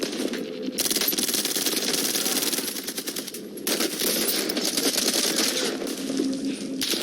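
Gunfire in the Call of Duty Warzone video game, long dense bursts of rapid automatic fire with a brief gap, loud and continuous throughout.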